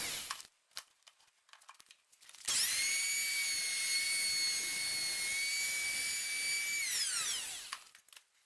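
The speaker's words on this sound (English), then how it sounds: "what I'm doing now is drilling small holes in the nut slot and the 12th fret slot to do locator pins." A small drill whines steadily for several seconds while boring locator pin holes in the nut and 12th fret slots of a wooden electric guitar neck, then spins down, with quieter tapping before it starts.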